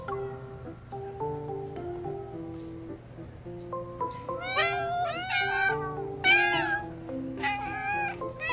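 Several cats meow repeatedly in the Love and Deepspace video game, with high, wavering cries overlapping one another over steady background music.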